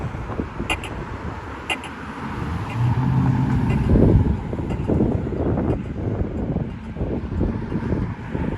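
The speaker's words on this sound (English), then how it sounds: "Watch the cars go by." Steady traffic on a city boulevard near a crosswalk, cars passing continuously at moderate distance with a broad rushing roar and some wind buffeting the microphone.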